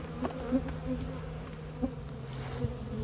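Honeybees buzz in an opened hive during an inspection, a low continuous drone with a few brief louder passes of bees close by, with no talking.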